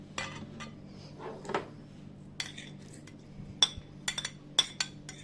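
Metal cutlery clinks and taps against a bowl in a home kitchen while chopped onion goes in for potato meatballs, several sharp clustered clinks that grow more frequent near the end over a quiet background.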